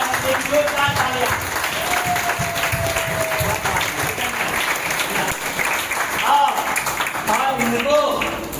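Loud, sustained applause from an audience at a grand celebration event, dense and continuous across the whole stretch, with an amplified voice and music carrying over the top.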